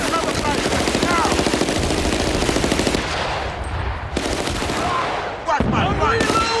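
Sustained automatic gunfire in the video game Battlefield: Bad Company, dense rapid rattling bursts with explosions and shouted soldier voices, loud and continuous with brief pauses between volleys.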